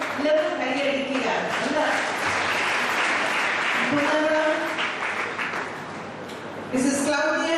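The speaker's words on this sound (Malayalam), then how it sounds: "എല്ലാവരും കൈയടിക്കുക." Audience applause at a church women's association meeting at the Old Seminary in Kottayam, steady clapping from the gathering heard beneath a voice speaking over a loudspeaker.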